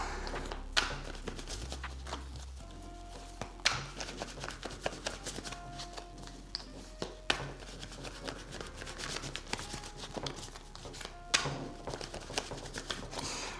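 Tarot cards are shuffled by hand, a quiet, continuous run of soft riffling, slapping and tapping with irregular sharper clicks over roughly thirteen seconds, without talk.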